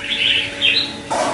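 Red-whiskered bulbuls give short, bright chirps in quick bursts, close by and clear, with a sharper call breaking in near the end.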